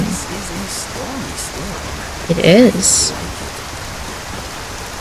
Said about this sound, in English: A stormy storm. That's